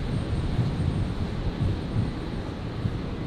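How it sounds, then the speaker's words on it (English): A Qantas Boeing 737 arriving from Christchurch touches down at Brisbane Airport, heard as a broad, rumbling low roar of engines and wind that stays steady for a few seconds with no speech. "Touching down there. The 73 in from Christchurch."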